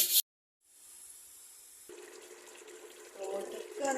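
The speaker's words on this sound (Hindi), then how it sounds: "मैं पूरा पूरा पानी डाल रही हूँ डबल" Water runs steadily from a tap or is poured into a pot of mash daal being cooked, a continuous splashing hiss that builds slightly louder toward the end.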